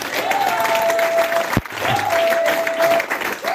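A church congregation applauding and cheering for Jesus, with broad steady clapping and crowd noise throughout and a sustained tone drifting over it, with no speech.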